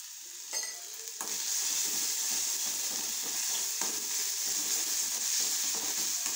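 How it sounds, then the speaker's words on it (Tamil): Egg burji with sheep brain is sautéed in a pan, a dense, loud, hissing sizzle that runs unbroken after a few stirring knocks at the start, heard up close without talk. "போட்டு நல்லா வதக்கணும்"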